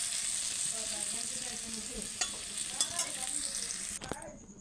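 Potatoes fry in oil with a soft continuous sizzle and hiss, broken by a few light scrapes and clicks of a spatula stirring in the pan.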